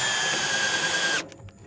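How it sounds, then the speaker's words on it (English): A power drill driving a trailer jack on a BBQ smoker trailer whines loudly and steadily for about a second, then stops, leaving faint mechanical clicks and rattles. "we hook onto it with our little drill here, press trigger on the drill"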